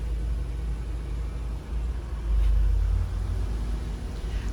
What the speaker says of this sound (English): The engine starts immediately.